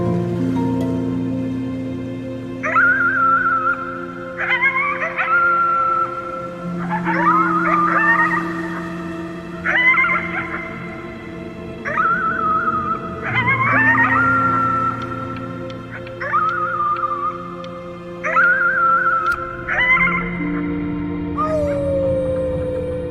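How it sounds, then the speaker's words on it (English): A voice howls at the moon at the top of its lungs in the video game Before Your Eyes, long wavering cries repeated about ten times over a sustained low musical drone. "You howled at the moon, at the top of your lungs."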